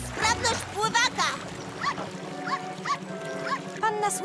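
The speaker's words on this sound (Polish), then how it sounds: "Panna Słodka Szprotka strasznie szczeka" A cartoon dog stranded in water yaps in a series of high, bouncy barks, repeated about every half second over a light background score.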